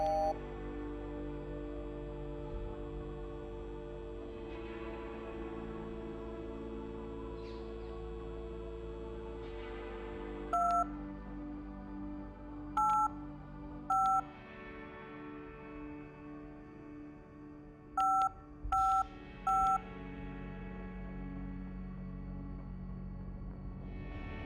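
Telephone keypad dialing in the video game Lost Records: a few short clusters of bright electronic keypad tones, each pair clear and distinct, over a low ambient background with no voices.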